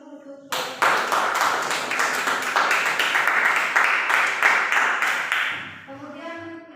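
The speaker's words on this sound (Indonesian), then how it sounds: "kasih aplaus dulu untuk" Applause from a classroom of students, a sustained burst of clapping that swells quickly, holds steady for several seconds and then tapers off, with a few voices audible at the end.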